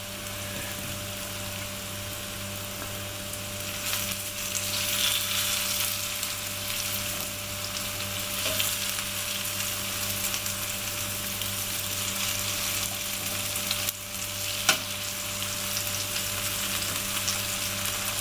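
Homemade potato latkes fry in oil in a pan, giving a continuous crackling sizzle with faint scraping and a sharp knock as one is turned, all without talk.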